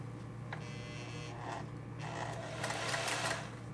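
A Singer 403A sewing machine stitching an over edge seam, a quiet mechanical whir with a steady hum underneath and bursts of faster stitching toward the end.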